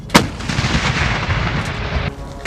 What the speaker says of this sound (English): shown the shocking effectiveness of British M777 Howitzers used by President Zelensky's troops on the front line